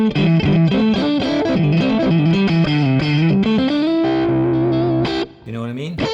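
A Fender Stratocaster Ultra II electric guitar plays a bright, jangly run of chords and single notes, loud and up close, ending on a sustained chord that fades out.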